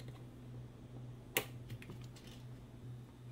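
A single sharp snip cuts stranded copper electrical wire, a brief close click against a quiet, humming background, followed by a few faint handling ticks.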